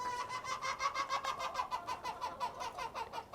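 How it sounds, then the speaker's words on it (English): Backyard hens cluck and chatter continuously in a cottage garden on an April morning, a busy rhythmic stream of close, moderately loud fowl calls with no talk. "My chickens are having a good old time this morning."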